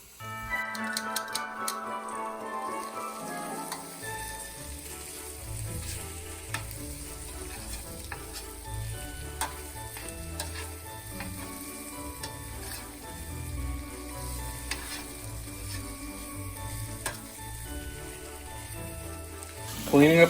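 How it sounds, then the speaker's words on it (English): Noodles and pasta fry in a hot pan while being stirred and tossed, a steady close sizzle running throughout with scraping and stirring clatter on top. "I'm gonna throw the noodles, the pasta, into here. Cook that up a little bit more, toss it around"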